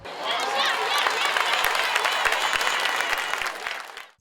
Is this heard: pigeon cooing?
no